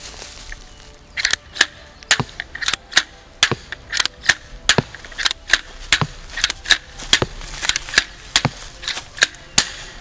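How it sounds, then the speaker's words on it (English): A Steambow AR-Stinger II Compact crossbow is fired quickly several times in a row, making a rapid series of sharp, close snaps and mechanical clacks over quiet background noise. "So now, 6 shots with the compact as fast as possible."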